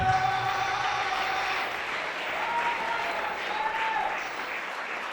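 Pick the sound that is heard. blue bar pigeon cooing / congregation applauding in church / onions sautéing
congregation applauding in church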